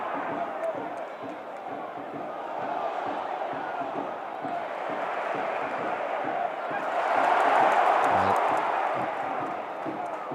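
Football crowd at a Portsmouth v Middlesbrough Championship match, a broad continuous roar that swells louder about two-thirds of the way through, heard from a distance under faint stadium ambience.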